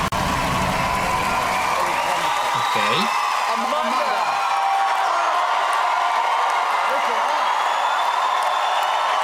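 A theatre audience at the Britain's Got Talent 2024 final applauds and cheers loudly and continuously after a performance, with a dense wash of clapping and whoops. Someone talks briefly over it.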